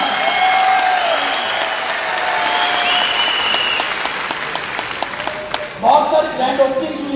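A large audience at a stadium seminar in Delhi applauds steadily, a dense crackle of clapping that fills the hall and fades a little, with a voice coming through over a sound system near the end.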